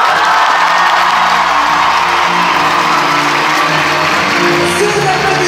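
A large theater crowd at the Paris premiere of Dumbo at Le Grand Rex applauds and cheers as Eva Green is welcomed, sustained loud clapping with whoops under faint music.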